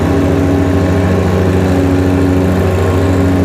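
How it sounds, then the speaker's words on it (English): A John Deere 1025R subcompact tractor runs with its drive-over mower deck engaged, a loud, steady engine drone with a constant low hum close by. "We'll turn the mower deck off and we'll lower our RPMs back."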